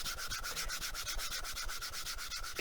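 A hand rubs steadily across the textured graphite face of a GRUVN Rounder G-16 pickleball paddle, a close, continuous scratchy rasp with a fast back-and-forth rhythm and no talking.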